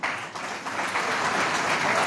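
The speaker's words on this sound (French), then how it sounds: "Mesdames et messieurs, nous vous demandons d'applaudir la présence ici de Madame Si Kayatousso," An audience at a political party meeting applauds, a loud, steady wash of clapping that carries through without a break.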